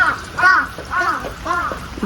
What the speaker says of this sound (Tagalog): Ang dami ng uwak dito, oh. Malalaki pa.